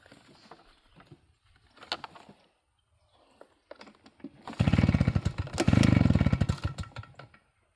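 A Neotec 52cc backpack leaf blower engine bursts into a loud, steady roar after a few quiet knocks and handling sounds, running close by for several seconds.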